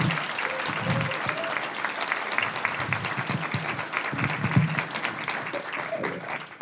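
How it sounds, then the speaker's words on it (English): Audience at a state of the city chamber event applauds in a sustained, dense round of clapping, fairly close, with faint voices mixed in. "can you all please give her just another round of applause?"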